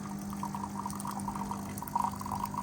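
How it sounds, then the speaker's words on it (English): Hot water streams from the spout of a HiBREW H21 espresso machine in a steady, even trickle, accompanied by a low constant mechanical hum, close and moderately quiet without speech. "The hot water spout has decent flow rate too"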